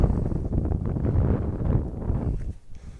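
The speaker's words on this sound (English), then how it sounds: "It's very, very windy" Strong, cold wind on a Northumberland hilltop buffets the microphone in a dense low roar that holds steady, easing slightly near the end.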